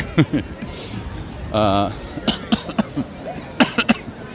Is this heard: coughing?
yes